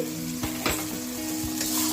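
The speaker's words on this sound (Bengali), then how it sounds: "এবারে কড়াইশুঁটিগুলো দিয়ে দিচ্ছি," Green peas going into a wok of sizzling cabbage give a loud, steady sizzle with a few stirring scrapes and clatters, close by, lasting about two seconds with no voices.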